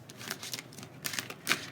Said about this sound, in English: So I want to shuffle some tarot now.